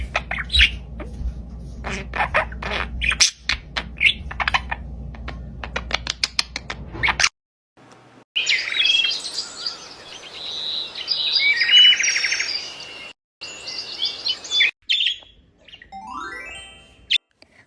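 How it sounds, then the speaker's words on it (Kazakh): A colourful parrot gives repeated harsh squawks and chirps, close and loud, in bursts separated by short pauses, with a longer screeching call in the middle. "Бұл тоты құс. Адамның дауысын қайталай алады."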